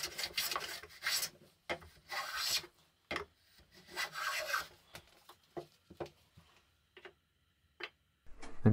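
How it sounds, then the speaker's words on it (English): A hand plane trues the end grain of an oak board on a shooting board, giving a series of short, crisp rasping strokes at an irregular rhythm, close up and alone in a quiet room. "trued up one end on the shooting board"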